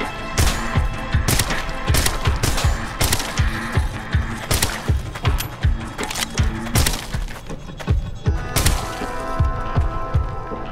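Rapid, loud gunfire rings out in the VR zombie shooter Arizona Sunshine, with sharp shots repeating in irregular bursts throughout, close and punchy, with no talking.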